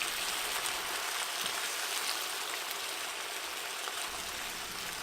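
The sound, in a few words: mirin, soy sauce and vinegar sauce reducing in pan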